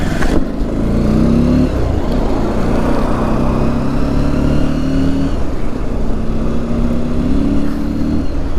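A motorcycle is ridden at close range, its engine a loud, steady drone that rises in pitch several times as it accelerates, with constant wind and road noise and no pauses.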